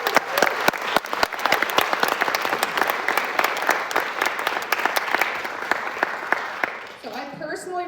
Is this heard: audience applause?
yes